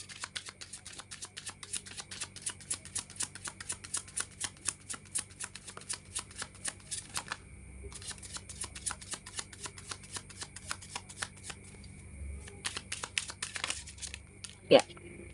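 Tarot cards shuffled by hand in rapid crisp riffling bursts, close and steady, with a few pauses and a louder knock near the end.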